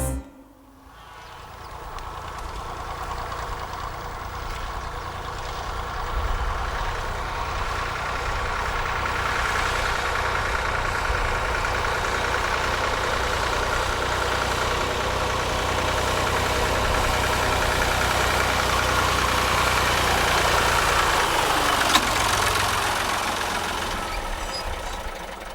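A tractor engine idles steadily for the whole stretch, a continuous low mechanical rumble with a knocking undertone, close and unbroken, with no talk over it.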